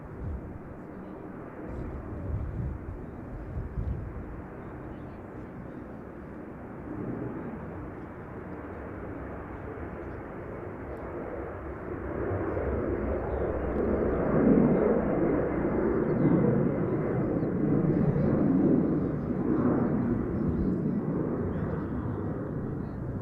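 A DHL Boeing 747 departs Brussels Airport, its jet engines a broad, steady roar that builds louder partway through and holds, heard from a distance with no talking.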